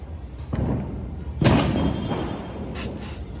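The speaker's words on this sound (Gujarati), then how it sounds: "આપણે આ તો આવડો બોમ્બ ફોડવા જવાનું" Several sharp bangs from a Diwali firecracker bomb go off nearby, one much louder blast in the middle and smaller pops after, echoing outdoors.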